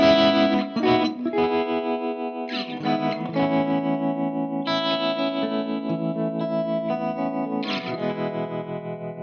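An electric guitar played through effects pedals with distortion and chorus rings out in sustained chords and a few sharp re-struck attacks, loud and continuous with no voices.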